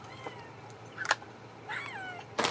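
A house cat meows indoors at home, two drawn-out close meows with a couple of short sharp chirps between them, over a quiet background.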